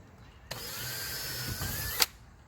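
A power drill whirs up sharply, runs at a steady high pitch for about a second and a half while drilling a hole for mounting track, then cuts off with a click.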